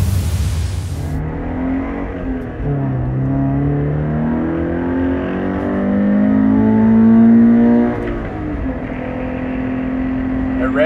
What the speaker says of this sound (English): At red line, it really seems to open up, and you can really hear the intake system.